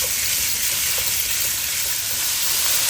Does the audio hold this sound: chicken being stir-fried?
yes